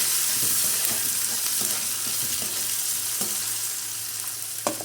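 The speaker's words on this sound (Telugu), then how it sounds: "కొంచెం పచ్చివాసన పోయే వరకు వీటిని వేయించుకోవాలన్నమాట" Ridge gourd, cumin and chili-ginger paste fry in a pan with a steady, dense sizzle throughout, plus a few soft scrapes of stirring, close and loud.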